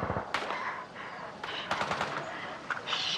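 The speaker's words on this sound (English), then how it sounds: "They're shooting at each other." Gunfire in a Walking Dead TV scene where army and National Guard units shoot at each other, a quiet, distant-sounding rattle of rapid shots under a steady background hiss.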